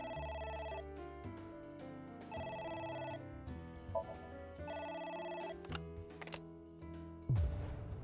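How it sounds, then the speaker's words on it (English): An electronic phone rings in the video game AI: The Somnium Files, repeating melodic ring bursts over a layered synth music score, with a sharp thud near the end. "A phone. Should I pick it up?"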